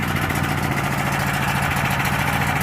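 A small portable generator engine runs steadily at idle under idle control, a close, constant buzzing drone with a fast even throb.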